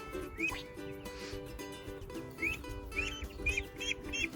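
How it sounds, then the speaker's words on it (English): Farm ducks being let out near water give a run of repeated nasal quacks, several in quick succession over a low background hum. "Oh, Dad's bringing the ducks out."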